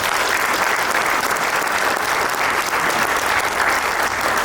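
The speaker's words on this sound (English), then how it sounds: "Let's give them one more round of applause." Audience at a mayoral forum held in a church hall applauding loudly and continuously, a dense even wash of many clapping hands close by with no speech over it.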